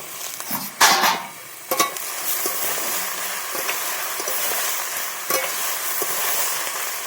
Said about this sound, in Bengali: ঢেকে ঢেকে ভাজছি